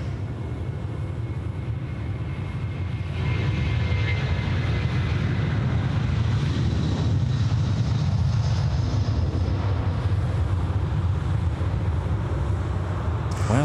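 Malaysia Airlines jet taking off from Sydney Airport in the evening, a loud, steady jet engine roar that builds after a few seconds and holds, heard from a nearby spotting mound with no talk.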